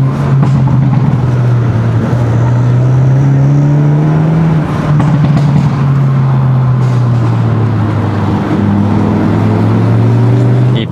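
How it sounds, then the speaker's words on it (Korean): Hyundai Elantra N (Avante N) in M mode, exhaust heard with a window open while driving, a loud, steady engine drone rising and falling with revs over about eleven seconds, close and continuous with no talk. "잠시 창문을 열어서 배기음을 들려드리면"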